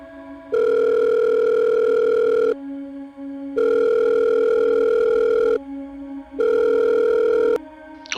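A telephone handset plays a steady dial tone, then three long ringback tones with pauses between them while a call to a hotel goes through. The tones are loud and close, and no one speaks.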